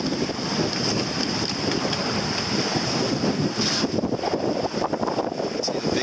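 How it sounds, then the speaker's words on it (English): Ocean swell and surf heard from aboard a small sailboat off the coast between Sakonnet and Cuttyhunk, a steady loud wash of water mixed with heavy wind buffeting on the microphone, no talking. "Waves."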